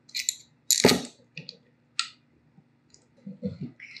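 Big metal washers clink and click onto a PVC prop joint in a few sharp, close metallic taps with short pauses between, plus soft handling rustles.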